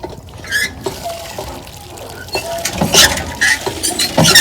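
Water at a science centre exhibit splashes and patters in irregular bursts, close by, with a few short squeaky sounds in between.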